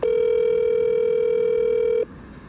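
A telephone ringback tone plays while a call goes through to a government minister's personal phone, a single steady electronic tone held for about two seconds before it cuts off into quiet room noise.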